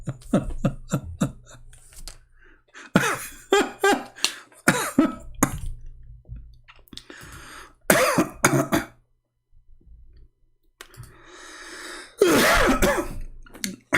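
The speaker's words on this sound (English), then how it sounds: "I apologize if I cough" Several coughs and throat clearings break out in bursts, close and fairly loud, separated by quieter pauses and breathing.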